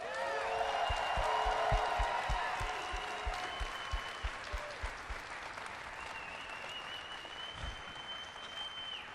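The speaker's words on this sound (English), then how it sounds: "Could you guys do me a favor and give a big round of applause for Kent Eric Hagman?" A BlizzCon audience at a live Heroes of the Storm match applauds and cheers in a sustained wash of clapping that slowly fades, with a presenter's voice speaking over it.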